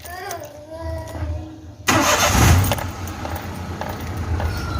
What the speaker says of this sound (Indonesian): Coba saya starter ya